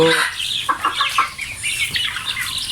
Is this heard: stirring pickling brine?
no